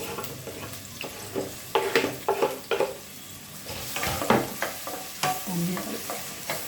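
Sliced onions and green chillies frying in oil in a pan, a constant sizzle broken by repeated close scraping strokes of a spatula, moderately loud with no talk.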